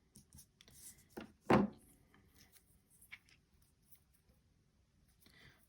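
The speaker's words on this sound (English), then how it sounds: "So scissors it is. I love my Cricut scissors though." Cricut scissors snip through washi tape in a couple of crisp cuts, close and fairly quiet, with faint handling rustles around them.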